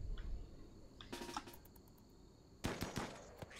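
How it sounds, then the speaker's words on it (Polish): Sharp bursts of gunfire in the video game RimWorld in two clusters, a rapid volley then a louder burst later, over a low background hum. "Będzie strzał do niego."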